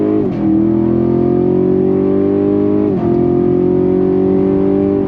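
A 2021 Chevy Camaro Shock & Steel Edition with a 10-speed gearbox accelerates hard on throttle, its loud close engine note climbing steadily through two gear shifts.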